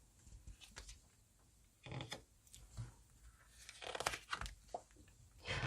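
Tarot cards being shuffled and drawn, giving soft, faint papery rustles and a few sharper crisp bursts of card handling, with no talk.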